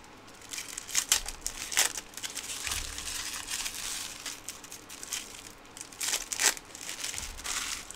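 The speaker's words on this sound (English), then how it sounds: "I spend more time opening up the boxes to take out the packs" Trading card packs and boxes being opened and torn by hand, a close, steady crinkling and crumpling of wrappers and cardboard with a few sharper rips, alone with no talking.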